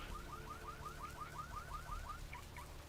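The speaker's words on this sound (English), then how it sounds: "I hear an alarm going off." An alarm goes off somewhere in a real-world room, a quick run of repeated electronic chirps at a steady rapid rhythm, fairly faint and set against a low background rumble.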